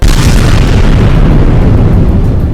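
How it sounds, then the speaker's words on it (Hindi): A loud, deep, continuous rumbling roar of missile strike explosions that fills the whole moment without any break. "ताबड़तोड़ हमलों की वजह से वहां तेज धमाके होते दिखाई दिए"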